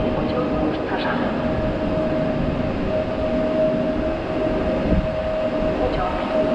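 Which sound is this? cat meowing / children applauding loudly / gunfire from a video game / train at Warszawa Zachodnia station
train at Warszawa Zachodnia station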